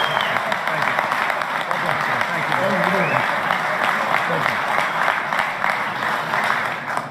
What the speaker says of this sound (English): How about we all give President Trump an amazing round of applause for being here tonight.